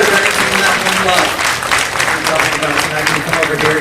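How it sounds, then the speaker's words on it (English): Theater audience at a tribute concert applauding, a broad continuous roar of clapping that holds steady at close range with faint crowd noise mixed in. "Give her a round of applause."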